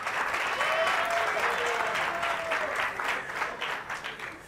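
Applause from an audience at a Catalan TV quiz show on Canal Terrassa, a dense, even wash of clapping filling the whole moment and fading slightly toward the end.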